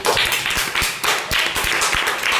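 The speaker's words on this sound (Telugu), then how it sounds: "క్లాప్స్ కొట్టండి వెంకీకి" Children clapping in a classroom for a classmate with the high score, loud, steady rhythmic claps continuing throughout without a break.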